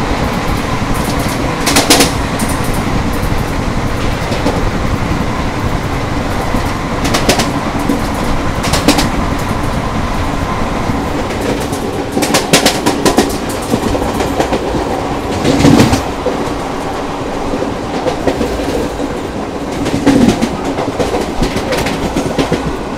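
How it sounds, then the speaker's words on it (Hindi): An ICF-coach Azad Hind Express runs at about 110 km/h, a steady loud rumble with rhythmic clickety-clack wheel beats and occasional sharper rattles, heard from on board. "लेकिन हमारी ट्रेन आईसीएफ इसलिए मैक्सिमम 110 कर रही है अभी"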